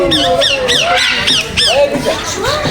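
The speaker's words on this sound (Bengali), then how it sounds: "এই জায়গায় কিন্তু টিয়া পাখি আছে অনেক ধরনের।" Parrots of several kinds squawk at a zoo park in Chattogram, a rapid run of loud, harsh overlapping calls at close range with no gaps, over faint background crowd murmur.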